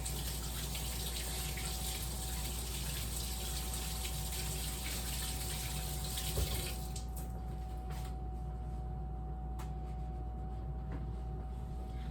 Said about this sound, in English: I'm gonna give it a rinse one more time.